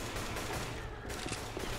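AK rifle fire in the zombie shooter Left 4 Dead 2 comes as a dense, continuous burst of rapid shots, loud and close, filling the whole moment with little else audible.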